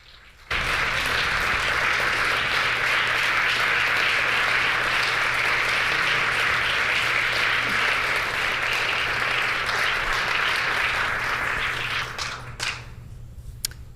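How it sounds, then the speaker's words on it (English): Sustained, dense applause fills a legislative chamber, steady and loud for about twelve seconds before fading out. "Please join me in a round of applause for Good Neighbor, the absolute best neighbors."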